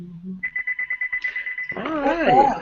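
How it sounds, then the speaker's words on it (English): A phone rings in a room: about a dozen rapid, evenly spaced electronic beeps in a steady pulse that shifts to a brighter tone, before a person starts talking over the end. "That's my phone now."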